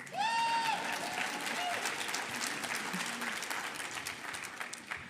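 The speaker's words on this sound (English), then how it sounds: "Y'all can clap." An audience applauds at MIT's MLK celebration, steady clapping from a crowd filling the hall, while a voice speaks briefly over the start.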